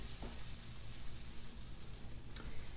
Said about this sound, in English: we're gonna add a little bit of olive oil